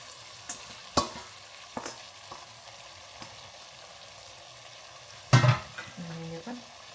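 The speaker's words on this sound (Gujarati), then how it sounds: "અને એને પણ મિક્સ કરી દઈએ એટલે લીલા મરચાં, ટમેટાં, ધાણા પણ સરસ રીતે કૂક થઈ જાય." Chopped coriander, tomatoes and green chillies cooking in a pan for vagharela biryani, with a faint steady sizzle, a few scattered clinks of the spoon and a louder scrape and clatter toward the end.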